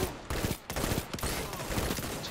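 A Blade Barrage attack in a video game lands as a rapid volley of sharp impacts. Several hard bursts come in quick succession over a couple of seconds, loud and close, with no talking.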